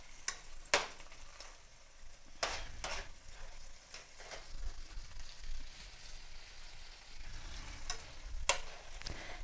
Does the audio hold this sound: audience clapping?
no